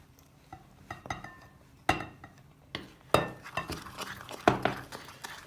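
Spoon stirring flour into a yeast dough of water, sugar, salt and yeast in a bowl: irregular clinks and scrapes against the bowl, sharp taps spaced a second or so apart, close up, with no talk.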